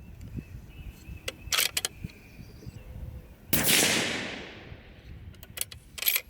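Several sharp gunshots from a 22 Creedmoor custom coyote rifle with a 75gr Berger load, one loud near crack with a decaying tail among brief softer impulsive bursts, fired in quick succession outdoors.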